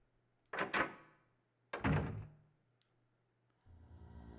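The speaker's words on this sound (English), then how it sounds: "Got all the keys. Door is open." A door in the Silent Hill video game opens with two loud, close heavy clunks, each ringing out with a metallic rattle, followed by a low rumbling drone, no talk.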